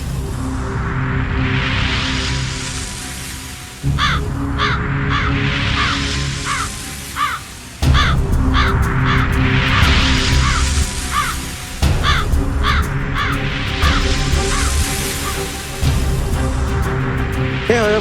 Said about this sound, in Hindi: ये कौवा कहां से है?